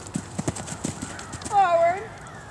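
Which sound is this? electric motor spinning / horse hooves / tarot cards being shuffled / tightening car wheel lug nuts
horse hooves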